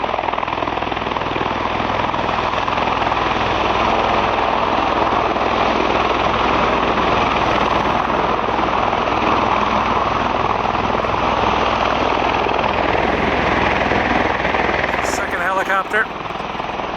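A helicopter's loud, steady rotor and turbine roar fills the air continuously as it lifts off near the Ellipse in Washington, close and unbroken, with a brief high chirp near the end.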